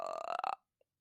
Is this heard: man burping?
yes